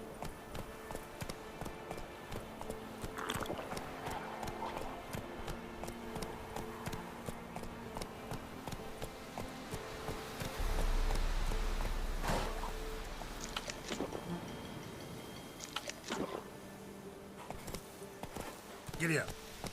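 Horse hooves clip-clop at a steady riding pace in The Witcher 3: Wild Hunt, with rhythmic patter running under game music and a voice speaking over it throughout.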